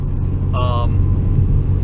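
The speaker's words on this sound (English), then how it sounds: "and that's the sound of this car" Deep engine rumble from a 2016 Ford Focus RS with a catless downpipe and muffler delete, heard from inside the cabin at light throttle, steady and droning, with a brief whine-like tone partway through.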